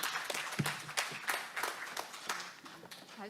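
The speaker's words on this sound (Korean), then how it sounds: "다시 한번 정말로 큰 박수 부탁드리겠습니다" Faint, scattered applause from a small audience at a cooperative-day sharing event, uneven claps rising and falling at a distance with a few louder hits.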